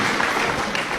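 A room full of students applauds Rahma, the clapping dense and steady at close range for about a second.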